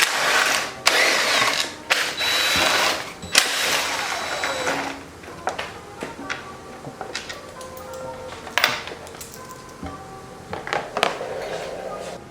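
A power tool spins out 8mm bolts from the rear fender of a 2021 Yamaha YZ125 dirt bike, in several short, loud whirring bursts with pauses between them and a voice speaking in places.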